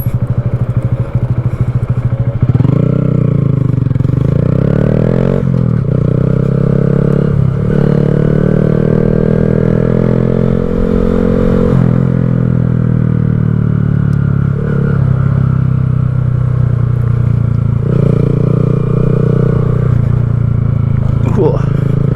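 Loud, close engine revs from a 2020 Honda Grom motorcycle, repeated blips rising and falling in pitch over a steady idle, with sharp throttle swells across the whole stretch.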